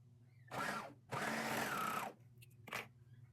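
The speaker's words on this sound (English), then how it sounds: "put it right sides together with the back pieces and sew the shoulder seams" A sewing machine stitching the shoulder seams of a child's dress runs in two short bursts, the second longer, with a quick third whir at the end, near and steady.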